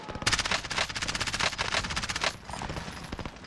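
Rapid automatic gunfire in a shooting video game, a loud dense burst of rattling shots that keeps a steady rhythm and then tapers into quieter, sparser firing, with no talk over it.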